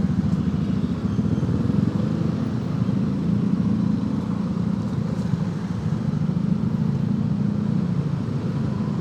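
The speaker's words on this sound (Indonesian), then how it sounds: "Mendingan pakai motor-motor yang kayak gue sekarang ini paling enak, bisa nyelip kapanpun." A motorcycle threads through busy Jakarta city traffic, its engine giving a continuous rumbling drone mixed with surrounding vehicle noise, loud and steady throughout with no talking.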